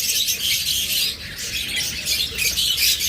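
A pair of Forpus parrotlets squawks in continuous, bright, shrill bursts, close and fairly loud, with dense chattering calls overlapping throughout and no talking.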